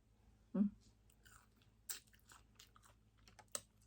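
Shrimp eaten with seafood dipping sauce: a few sharp, close bites and crunchy chews in a quiet setting, spaced about a second apart.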